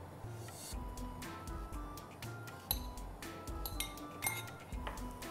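Spices and ingredients dropped into a pan of melting butter, with a series of clinks and taps of utensils and dishes against the pan, close and distinct, no talk.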